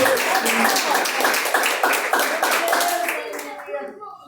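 A church congregation at a live Pentecostal service claps hands steadily for a few seconds under voices, the dense applause-like clapping fading out at the end.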